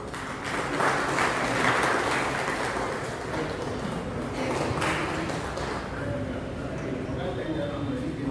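Audience applause at an award ceremony in a hall, welcoming a guest onto the stage; steady broad clapping that fills the room throughout, with a faint voice and murmur underneath.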